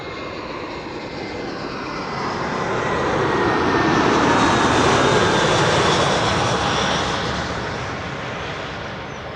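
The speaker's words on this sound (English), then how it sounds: "Vueling, flight 1377 arriving from Alicante," A Vueling Airbus A320 coming in to land at Schiphol, arriving from Alicante, its engine roar swelling steadily as it nears, peaking loud overhead, then easing slightly as it passes.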